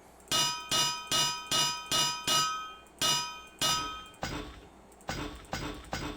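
A Minecraft anvil rings out in a rapid series of bright metallic clangs, around a dozen evenly spaced hits, each decaying quickly, loud and close with no voices.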